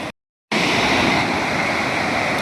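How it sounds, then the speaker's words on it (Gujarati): Floodwater from a swollen village river rushing past a broken bridge after upstream rain, a loud, steady roar filling the clip after a brief silent gap at the start. "આ પાણી હાલ્યું આવે છે"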